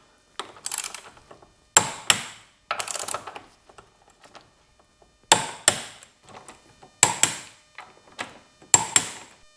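A wrench tightens the front suspension bushing bolts on a BMW E46 to torque, giving short bursts of sharp metallic ratcheting clicks. The clicks come in close, repeated groups separated by brief silences.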